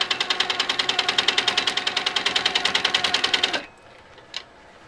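A sewing machine runs steadily while stitching a quilt seam line, a fast, even mechanical rattle of stitches that stops abruptly, followed by a single faint click in near silence.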